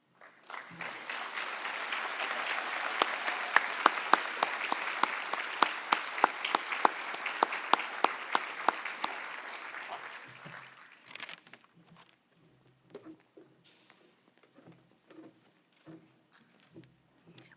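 An audience at a youth health awards ceremony applauds steadily for about ten seconds, then the clapping fades into scattered claps and quiet room noise.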